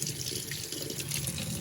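Cold tap water runs steadily over color-changing Hot Wheels toy cars in a sink, a continuous close splashing flow with no talking.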